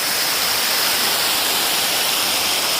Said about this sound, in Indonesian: Beginilah keadaan sekitar air terjun Penimbung pada tingkat pertama.